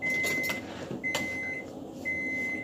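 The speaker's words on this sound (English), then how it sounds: "in the background you hear my oven going off because it's ready" An oven beeps when it finishes preheating to 450 degrees, giving a few thin electronic tones of varying length, faint and off in a quiet kitchen.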